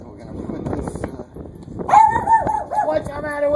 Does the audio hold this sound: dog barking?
yes